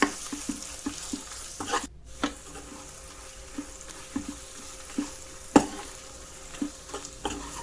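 Masala rice with turmeric being stirred in a pan, a soft frying sizzle underneath with spoon scrapes and taps recurring every second or so, close and moderately quiet with no talking.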